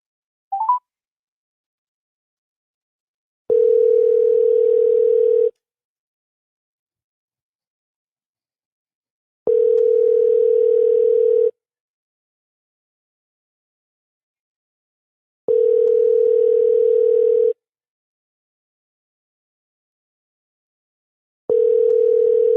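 A telephone emits a short dialing beep, then a steady ringback tone that repeats in long, evenly spaced bursts, each about two seconds, separated by silent gaps of roughly four seconds, loud and clear with nothing else audible.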